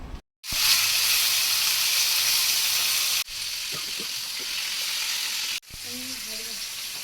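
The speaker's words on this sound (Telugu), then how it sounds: "ఇప్పుడు రెండో లెగ్ కూడా ఫ్రై చేసుకుందాం." Tandoori chicken leg frying in a little oil, a loud steady sizzle that cuts out briefly twice as the pan is handled, with faint clinks and a short voice near the end.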